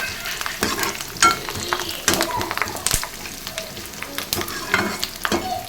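Onions sauté in a pan as the base for a fish curry, a constant sizzle broken by repeated scraping stirs of a spatula, close and fairly loud.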